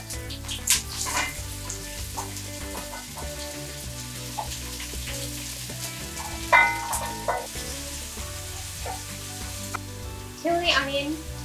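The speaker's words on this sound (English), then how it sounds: "Once the oil has heated up, we can add the 3 chopped onions into the oil." Three chopped onions fry in hot vegetable oil for an Indian-style chicken curry, an uneven sizzle with patter and crackles, with louder bursts as they are stirred, and a low hum underneath.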